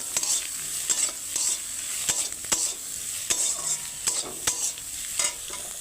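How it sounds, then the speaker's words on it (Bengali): Chopped onions, green chilies and bay leaves fry in hot oil for an egg tadka dal, a steady sizzle broken by repeated sharp scrapes and clinks of a stirring spoon against the pan, close and alone. "তারপরে এই 4টে কাঁচা লঙ্কা কুচানো, 3টে তেজপাতা, 2টা পেঁয়াজ কুচা কম আছে আমি ভেজে নেব।"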